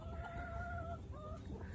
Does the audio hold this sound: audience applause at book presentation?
no